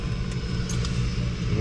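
A business jet's engine runs nearby on an airfield, a steady, loud, close roar with a deep rumble and broad hiss throughout, no voices.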